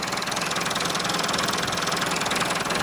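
A four-cylinder engine in an old Toyota Corolla idles steadily up close, with a continuous rhythmic chug and a faint knocking beat running through the whole stretch, and no talking.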